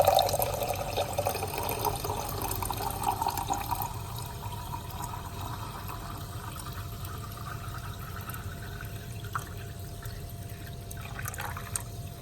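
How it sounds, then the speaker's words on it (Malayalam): Soda poured into a glass for fuljar soda, a steady fizzing pour with trickles and drips, close and moderately loud, easing slightly after the first few seconds, with no talk. "ഇനി ഈ ഗ്ലാസ്സിലേക്ക് സോഡ ഒഴിച്ച് കൊടുക്കാം."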